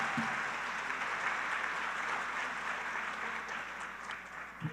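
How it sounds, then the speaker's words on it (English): A seated audience applauds after a Bharatanatyam arangetram, an even, sustained stretch of clapping at moderate distance that eases slightly toward the close. "Please give her another round of applause"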